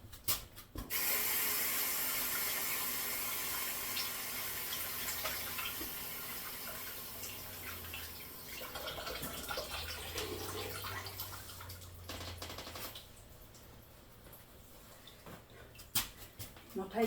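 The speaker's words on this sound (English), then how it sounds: "Now, what I'm going to do is wash my hands." Tap water runs steadily into a sink as hands are washed in a home kitchen while pumpkin desserts are prepared, the broadband splashing lasting most of the stretch and thinning near the end, with faint background sounds.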